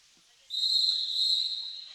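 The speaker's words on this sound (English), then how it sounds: "the long whistle means we're about to get back in the action" A roller derby referee blows one long, steady whistle during a bout, a loud shrill tone that starts abruptly and holds for about a second and a half against faint arena noise.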